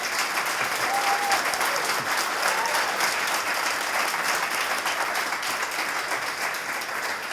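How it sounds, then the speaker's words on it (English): A full room applauds a panel discussion at a music-industry talk, steady dense clapping holding at an even level from start to finish, with a faint tone briefly audible early on. "So please an applause for a fantastic panel."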